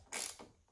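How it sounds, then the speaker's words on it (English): A hand ratchet with a 10 millimeter socket tightens down a car part, giving two short, close clicking bursts. "The next thing we're gonna do here is just tighten it down."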